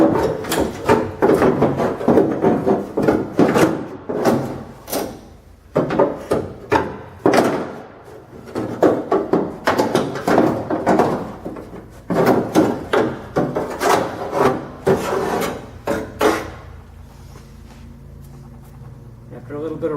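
Door handle mechanism and linkage rod being worked out of a 1964 Chrysler door: repeated close scraping, rubbing and knocking of metal parts against the door shell in uneven bursts, with someone talking over much of it.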